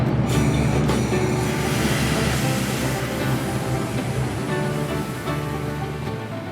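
The Lake Superior and Mississippi Railroad excursion train, pulled by Engine 46, rolls along with a loud, steady rumble and clatter of wheels on track, fading slightly toward the end.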